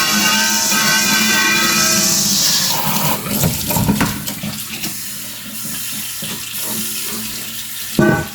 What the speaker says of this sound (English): Rinse out your bowl that you had to get rid of the baking soda and stuff.